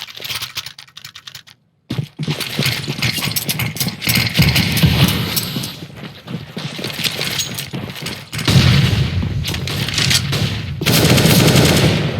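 Rapid bursts of rifle fire in a CS:GO match on Dust 2, crackling volleys in quick succession with brief gaps between exchanges, loud and close, broken by a short silence near the start.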